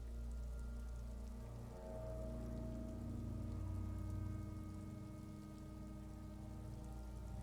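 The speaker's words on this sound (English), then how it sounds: "It's raining outside, light drizzle." Light drizzle falls steadily in Disco Elysium, a soft continuous patter of rain over a low ambient hum, quiet and unbroken with no talking.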